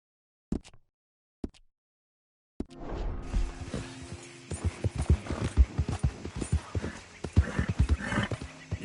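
A horse trots in Red Dead Redemption 2: two isolated hoof thuds, then a steady, close run of rhythmic clip-clop hoofbeats over low rumbling ground noise.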